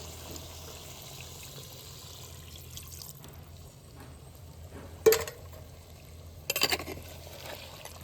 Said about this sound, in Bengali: একটু জল দিচ্ছি